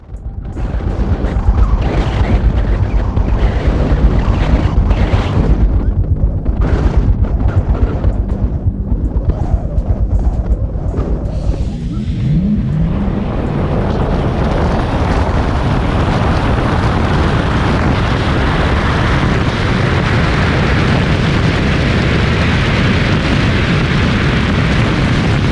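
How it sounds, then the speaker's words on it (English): A Lucid Air and a Porsche Taycan electric cars launching in a drag race, with loud, blustery wind and rushing road noise building into a sustained roar that holds steady to the end. "With this drag race, Lucid took off like a rocket, comfortably beating the Taycan."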